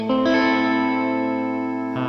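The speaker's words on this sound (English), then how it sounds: "So pretty vibey, lots of chorus, a little bit of a drive, lots of reverb." A sustained electric guitar chord rings out, lush with chorus shimmer, light overdrive and a wash of reverb, then a new chord strikes at the end.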